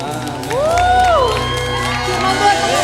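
Church congregation at the 32nd anniversary service of GSJA Filipi Klaten, loud and close: crowd cheering, whoops and shouts over applause, with excited voices in the mix.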